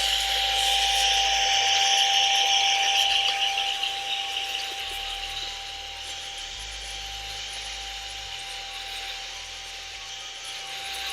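A power drill whirs steadily with a high brushing hiss as brush bristles scrub a Dior B22 sneaker, running continuously at close range.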